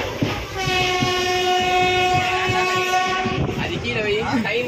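A passenger train, near and loud, sounds a sustained horn with a rich stack of steady tones for most of its length, then pulls away with rumble and clanking of the wagons.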